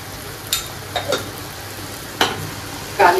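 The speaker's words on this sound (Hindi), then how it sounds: "अब बस कढ़ाई में भी टमाटर भुनने पे आ रहे हैं" Tomatoes fry in a kadhai, a soft sizzle broken by a few sharp spoon scrapes and stirs against the wok, close and alone without voices.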